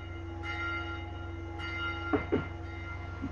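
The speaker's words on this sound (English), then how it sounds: "you're going to see a small little cutscene of the bell taking off" Bell ringing during a cutscene in Dark Souls 2, sustained metallic tones sounding over a low rumbling drone, with a couple of heavier clanking strikes near the end, moderately faint.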